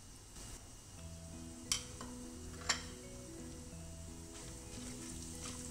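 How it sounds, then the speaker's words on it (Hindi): Whole garam masala spices fry in hot oil with a soft, steady sizzle, quiet and continuous, broken by two light metallic clinks of a utensil against the pot. "ऑयल हमारा गरम हो चुका है, तभी इसमें मैं ये साबुत गरम मसाले डाल दूंगी"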